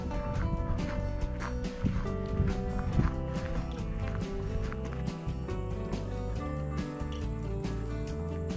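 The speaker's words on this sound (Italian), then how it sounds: "sentono già i campanacci" Cowbells on grazing animals ring across an alpine pasture in the Belluno Prealps, a dense, continuous jangle of overlapping clanks at a steady level.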